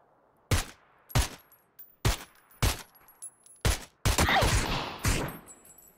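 Gunfire from bots in the video game PUBG comes as a run of sharp, separate shots spaced about half a second apart, then a dense, sustained burst near the end.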